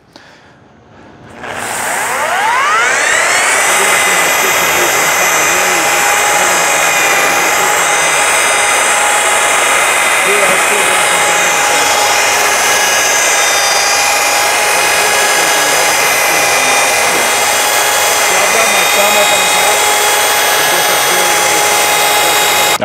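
A machine polisher whirs steadily on a DeLorean DMC-12's stainless steel panel, worked with 600 grit on an interface pad with Maverick grease, spinning up after a brief quiet start and holding a loud, constant whine throughout.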